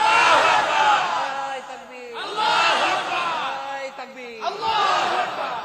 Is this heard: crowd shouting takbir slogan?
yes